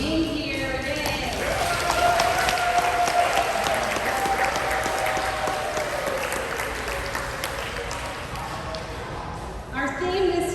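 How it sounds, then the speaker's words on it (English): Audience applause at a school pizza-party kick-off event, a broad wash of clapping under cheering and speech that runs steadily before tapering near the end. "I hope you will join me in a big round of applause for being here."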